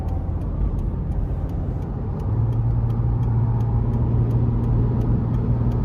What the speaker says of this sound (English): So not giving it full throttle, but still pretty easy in the mid-range to accelerate.